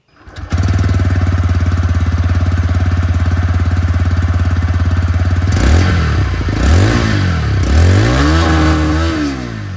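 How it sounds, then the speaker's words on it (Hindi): A TVS Raider 125 iGo motorcycle engine starts and idles steadily with a throaty putter, then revs up and down repeatedly in several bursts, loud and close. "अब आप लोग यहाँ पर जो रेडर 125 आइगो मॉडल की आवाज़ है वो भी आप लोग सुन लीजिए"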